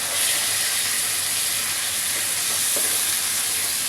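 Water splashed onto onions fried until red in a pan, making a loud, continuous sizzle and hiss throughout, without talk.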